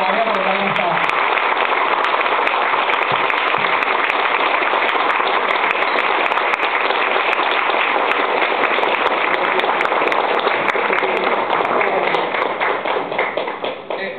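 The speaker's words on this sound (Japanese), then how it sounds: "皆さんお三人の方に拍手を。" Fans at the Captain Future Convention 2010 in Japan applaud three guests at the close of the first session, with long, dense, rain-like clapping that stays steady for many seconds before thinning out at the end.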